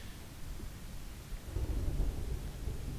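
Thunder and rain in the video game Amnesia: A Machine for Pigs, a low rolling rumble under a steady wash of rain that swells into a heavier, louder roll midway through.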